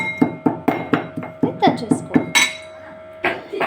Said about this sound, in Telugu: అలానే వేయించి పెట్టుకున్న ఈ గసగసాలు మొత్తం వేసి బాగా మెత్తగా దంచుకోవాలండి